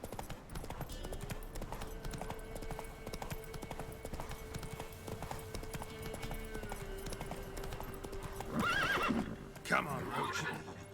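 Roach, a horse in The Witcher 3 video game, clops along with a steady rhythm of hooves, then gives a loud neigh near the end; a voice talks over it.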